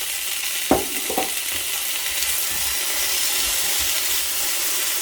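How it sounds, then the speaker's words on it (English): Part-cooked potatoes frying in an oil-coated pan give a steady, close sizzle, with a couple of short clatters near the start as they go in. "get the potatoes in and get those cooking"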